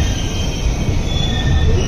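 The AP Sampark Kranti express from Tirupati to Hazrat Nizamuddin rolls through Bellampally station, a loud, steady roar of railcars with high, sustained wheel squeal over the rumbling carriages.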